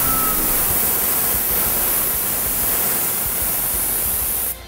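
Steady broadband hiss of an airbrush spraying paint while filling in twisted flame artwork, continuous and close, cutting off abruptly at the end.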